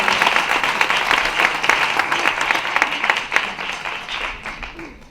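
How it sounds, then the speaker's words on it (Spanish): An audience applauds at an evening presentation of a short film's trailer and poster in Cehegín, producing dense, continuous clapping that holds steady and then begins to taper near the end. "Un aplauso para ellas."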